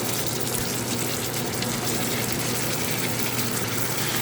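Water gushes steadily into a pot of Guyanese snook fish curry, a continuous close, loud pouring rush with no talk over it.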